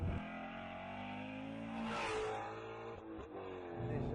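A Ford Mustang Shelby GT350R's engine gives a steady, deep drone that swells in pitch partway through, then settles back to a sustained roar.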